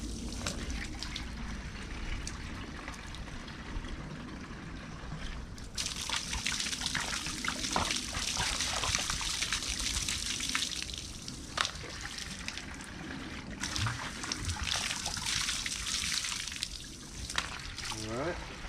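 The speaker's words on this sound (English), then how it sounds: "You want to run fresh water, definitely." Fresh water runs through rig cleaning lines, a steady gushing and trickling stream that surges louder partway through and continues with only brief dips in level.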